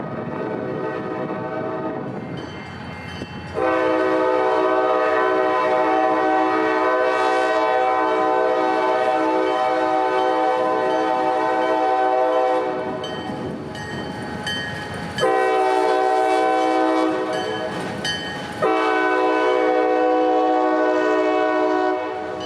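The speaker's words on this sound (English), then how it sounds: "that train would appear in just a few moments" A train rumbles past steadily in Jacksonville while its horn blares in several long blasts, loud and nearby, over the constant roll of wheels.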